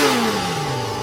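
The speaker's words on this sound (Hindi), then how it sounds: "बाइक की आवाज।" Motorbike engine revving in a rising, droning whine, fairly loud and steady for about a second, with no voices over it.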